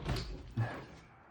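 A screen door at a house in Ohio is handled, giving two short knocking rattles about half a second apart that fade into quiet room tone, with no voices.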